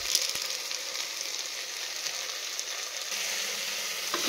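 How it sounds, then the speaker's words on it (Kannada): Spices and garam masala sizzle steadily in hot oil in a pan while being fried for vegetable biryani, a continuous close frying hiss with faint stirring and no talk. "ಇದನ್ನು ಒಂದು ಅರ್ಧ ನಿಮಿಷದಷ್ಟು ಫ್ರೈ ಮಾಡ್ಕೊಬೇಕು."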